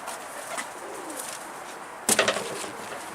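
A stray pigeon coos softly in a few low, drawn-out calls, followed by a short burst of sharper, louder fluttering or scuffling near the end.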